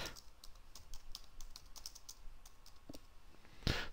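Typing on a computer keyboard to write a note card message in Second Life, a steady run of soft, close key taps with a louder clack near the end, no voices.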